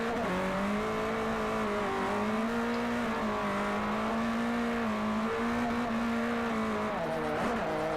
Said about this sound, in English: Look at that drift.